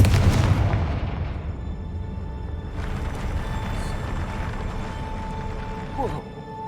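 A Confringo blasting spell explodes in Hogwarts Legacy, one heavy booming blast up front that rumbles and decays into a long, resonant tail with faint debris and magical shimmer.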